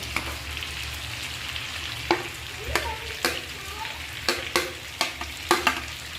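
Onion fries in hot oil in a pan, giving a constant loud sizzle broken by repeated sharp scrapes and taps as it is stirred.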